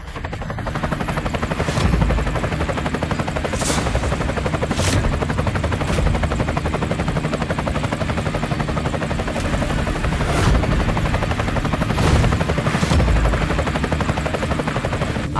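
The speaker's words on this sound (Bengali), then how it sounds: "আরে, ওটা তো কোটি টাকার হেলিকপ্টার।" A helicopter flies nearby, its rotor throbbing in a fast continuous beat, loud and steady with occasional swells in level.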